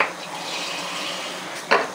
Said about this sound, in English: I'm gonna fill the jar up with water.